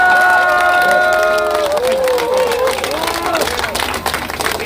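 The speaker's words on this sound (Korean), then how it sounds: "저 뒤에 박수 안 치는 분도 박수 한번 쳐주세요" A large crowd at a Korean election campaign rally claps, cheers and shouts loudly and close by, with voices and whistle-like tones rising over the applause.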